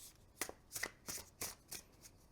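A tarot deck being shuffled by hand, five quick papery riffles in an even rhythm, close and quiet with no talk.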